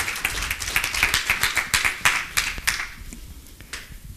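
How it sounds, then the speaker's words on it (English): An audience claps warmly for a speaker at a design talk, a brisk, close patter of many hands for nearly three seconds before thinning out into a few scattered claps. "Give her a very warm applause."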